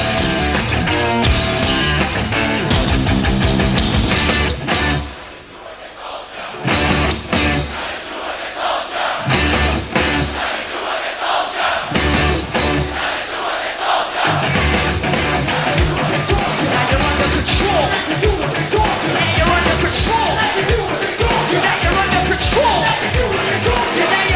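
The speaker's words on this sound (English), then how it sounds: "This crowd is blowing my fucking mind, man. This crowd is crazy." Huge, roaring crowd at a 1993 live concert, yelling and cheering continuously and loudly, with a brief dip before the din surges back and holds at full intensity.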